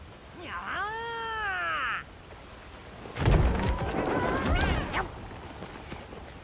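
A meowing cat in the game Monster Hunter Wilds gives one clear drawn-out meow, then more mews and a voice follow amid rumbling background noise.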